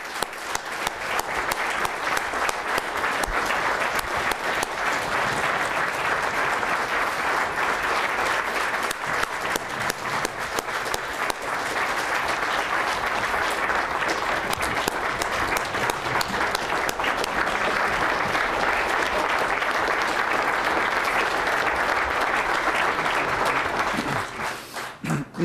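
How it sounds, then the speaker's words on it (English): A legislative audience in the Alaska Legislature gives a sustained, hearty round of applause for North Slope whaling captains, dense steady clapping lasting over twenty seconds before it tapers off. "Can we give him and the other North Slope whaling captains a hearty round of applause?"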